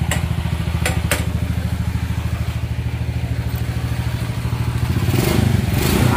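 A classic Honda C70 motorcycle engine idles steadily with a fast, even low thrum, a couple of clicks early on and the revs lifting slightly near the end; no talking.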